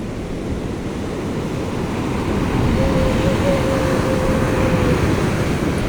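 Steady roar of beach waves and surf, loud and continuous with wind buffeting the microphone, swelling slightly halfway through.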